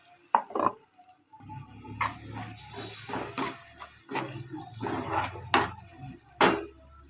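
Ground tomato paste fries with golden-browned onions in a pan, stirred in a series of uneven scraping strokes against the pan over a low sizzle, with no voices.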